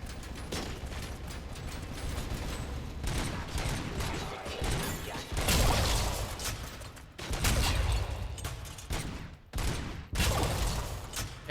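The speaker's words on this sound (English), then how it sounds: "The gunshots are loud as all." Gunfire from the video game RoboCop: Rogue City crackles in dense bursts and repeated loud volleys, with mechanical clanks and booms between shots.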